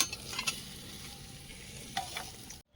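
Oil sizzles steadily as pointed gourd fries, with a few scraping stirs of a utensil before it cuts off abruptly.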